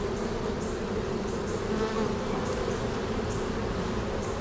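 Honeybees from a caught swarm hum steadily and densely at close range in a loud, unbroken drone, with no voices over it.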